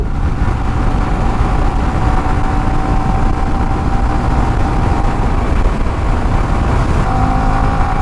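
A vehicle engine drones loud, steady and close during a solo road ride from Dinajpur to Thakurgaon, with heavy wind rumble and a faint whine over a few seconds of cruising.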